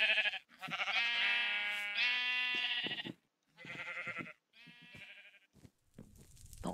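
Sheep in the Minecraft video game bleat in a run of loud, drawn-out, wavering cries with short gaps between them, plus a softer bleat near the end.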